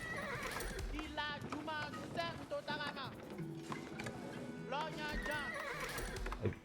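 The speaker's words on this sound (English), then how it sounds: "Is this a donkey or a horse?" In an Age of Empires-style strategy game, a horse whinnies loudly several times over rhythmic clip-clopping hooves, with a player talking over the game sounds.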